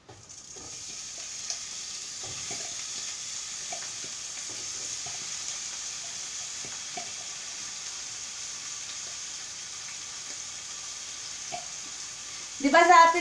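Beef fries in a pan under a steady soft sizzle, with scattered scraping knocks as it is stirred and a louder clatter near the end; a voice talks faintly in the background.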